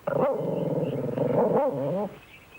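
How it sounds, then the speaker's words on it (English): A cartoon dog-like growl, a loud, close, rumbling snarl lasting about two seconds in a Disney animated mystery episode, heard alone without speech. "Sounded like a growl."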